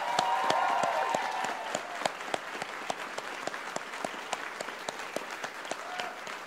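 A convocation audience for computer science and science graduates claps steadily in a large hall, dense continuous applause with distinct individual claps close by, lasting throughout.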